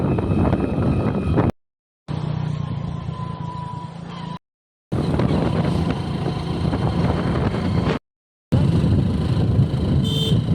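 A car driven along roads through an old village in rural Maharashtra gives a steady, loud engine-and-road drone heard from inside, with the sound cutting out abruptly a few times.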